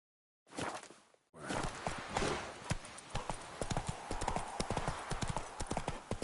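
A horse's hooves clip-clop at a walk in The Witcher 3: Wild Hunt, with a steady, close, rhythmic run of hoof strikes after a brief silent start.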